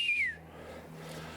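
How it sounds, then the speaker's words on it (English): A person off camera in a forest gives one short, clear whistle that slides downward in pitch and fades, heard at a moderate distance over a low steady hum with no talking. "give me a whistle"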